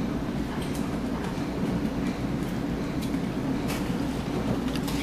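A commuter train pulls into Ridgewood station with a loud, steady rolling roar and scattered clanks and squeals from the wheels, heard up close for the whole stretch.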